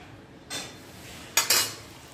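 Marinated chicken being mixed into tandoori paste in a bowl, heard as a few close, short clinks and scrapes of utensil against the bowl over a quiet background.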